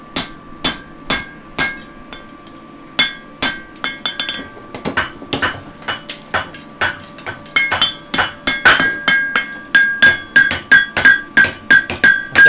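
A hammer strikes a horseshoe on an anvil during forging, ringing out sharp metallic blows that come in irregular bursts and then speed into a quicker, steady rhythm, loud and close.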